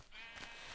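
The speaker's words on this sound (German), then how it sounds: "Hallo Schaf. Tschüss Schaf." A single short, wavering bleat from a sheep in the video game Minecraft, heard close and alone.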